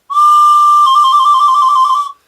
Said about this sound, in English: I've been making these small little whistles